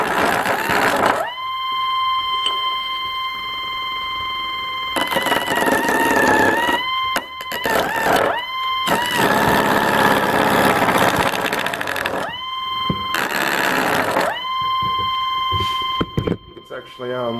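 A stepper motor winds cords around a base, giving a steady, loud whining hum with distinct pitched tones that shift and pause in bursts, while someone talks over it.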